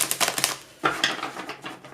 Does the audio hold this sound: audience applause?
no